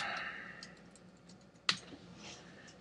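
Faint, scattered keystrokes tap on a computer keyboard in a quiet room, with one sharper click standing out near the end.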